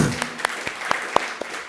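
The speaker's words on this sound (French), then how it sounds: "crois qu'on peut applaudir Elisabeth pour cette présentation" Sparse, scattered claps from a small audience after a scientific presentation at a cancer institute event, a handful of distinct hand claps spaced irregularly over a faint background.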